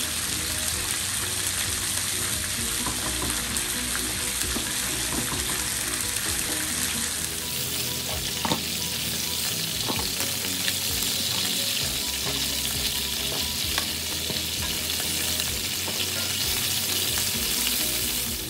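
Loud, dense sizzling of chicken pieces frying in hot oil for chicken roast, steady and close, with light crackles and occasional stirring throughout.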